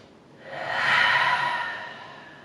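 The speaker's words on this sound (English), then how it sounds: "We're gonna take two more breaths here" A single slow, deep breath taken while holding a yoga pose, an airy breathy rush that swells gently, peaks and fades, close and alone without speech.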